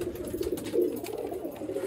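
Pigeons of a slate-grey show breed coo steadily in a loft, the soft rolling calls rising and falling close by with no talk over them.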